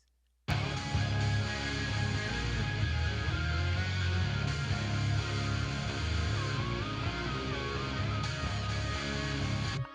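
A full, dense mix with a sustained synthesizer part layered over bass and drums, steady and loud throughout.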